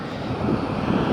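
A fixed-wing airplane at Wellington Airport at night, a loud close steady engine roar that swells slightly over a brief moment, with no talk.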